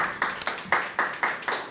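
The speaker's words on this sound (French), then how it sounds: "Il faudrait qu'on applaudisse quand même." A small audience claps at a talk event for a coach, about seven distinct rhythmic claps in quick succession, fairly close and clear with no talk over them.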